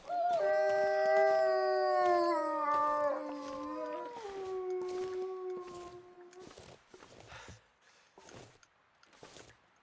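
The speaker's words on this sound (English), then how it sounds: "So when they howl, they're preoccupied with howling" Creatures in a video game let out several overlapping drawn-out howls that waver and slide downward, followed by scattered clicks and faint game noises.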